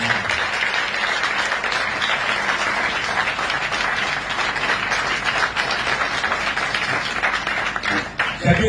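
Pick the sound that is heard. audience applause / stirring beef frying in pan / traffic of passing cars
audience applause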